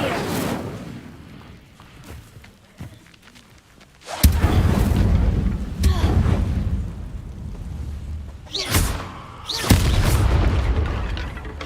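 Incendio fire spell cast in Hogwarts Legacy, heavy roaring whooshes and booming bursts of flame that swell loudly several times, with a shouted voice among them.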